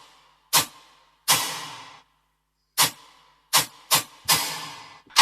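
A synth lead for a trap drop, made in Serum, fires short bright stabs with sharp attacks and quick decays in an uneven, bouncy rhythm, with silent gaps between hits.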